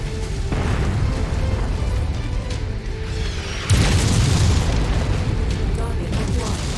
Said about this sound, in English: Blowing up tanks right next to me.